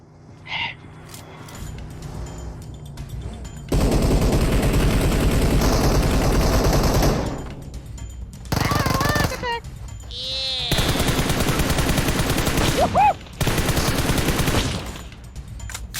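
Bursts of rapid gunfire in the game PUBG Mobile crackle in loud stretches, broken by short pauses, with scattered electronic effects and faint voices between volleys.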